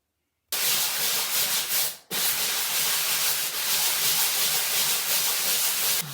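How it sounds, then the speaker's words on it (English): Sanding a repaired, patched bathroom wall before repainting: a steady, close abrasive rubbing that runs on without pause, with one short break after a couple of seconds, and no talk over it. "we're gonna sand this down and we're gonna repaint this"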